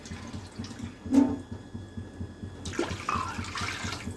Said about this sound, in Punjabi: ਆ ਤਿੰਨ ਗਲਾਸ ਅਸੀਂ ਪਾਣੀ ਦੇ ਪਾ ਦਿੱਤੇ